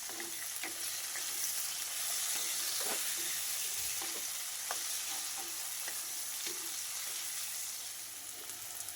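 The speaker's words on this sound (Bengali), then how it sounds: "এবার উচ্ছেটা যখন ভাজা ভাজা হয়ে আসবে" Bitter gourd stir-fries in a pan with a steady, close sizzle and occasional scrapes and taps of the spatula. No voices.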